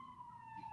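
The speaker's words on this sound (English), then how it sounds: "sorry, I've got sirens." Emergency vehicle siren wailing outside, a steady falling tone, faint and distant, running throughout with no other sounds over it.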